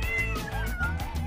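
Cats meowing in a village-eating video game, several overlapping wavering meows in quick succession, close and fairly loud, with faint game sounds beneath and no talk.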